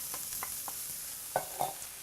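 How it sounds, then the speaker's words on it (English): Onions and carrots sautéing in a pan, a soft steady sizzle with a few light stirring scrapes and taps, quiet and close, no voices. "we're going to saute some onions"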